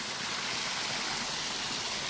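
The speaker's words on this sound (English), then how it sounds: "Alright, so we're back at the front of the waterfall." The Oglebay waterfall roars in front of the listener, a steady, dense hiss of rushing water with no break or voices.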